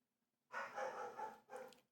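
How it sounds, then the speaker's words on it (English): A dog barks in a quick burst: one longer bark followed by a shorter second one, fairly close and clear, with no talking over it. "Dog's barking at something."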